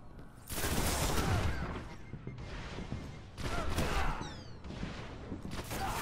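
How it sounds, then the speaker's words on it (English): Fully automatic sky rifle fire in a video game comes in two dense bursts of rapid shots, each lasting about a second and separated by a short gap, loud and close with no talk. "So my first like two shots were fully automatic."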